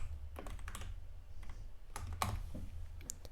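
Scattered clicks of typing on a computer keyboard, irregular keystrokes in short bursts over a low hum, fairly quiet and close.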